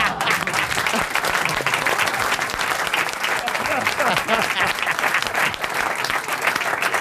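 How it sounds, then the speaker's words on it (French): Audience applause on a French radio comedy panel show, a dense, loud burst of clapping that continues steadily throughout. "Je ne sais pas si les gens applaudissent"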